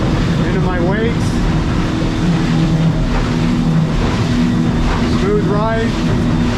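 A 1550 aluminum boat's outboard motor runs steadily and loud through a water test, engine drone constant as the hull cuts sharp turns, with a voice talking over it.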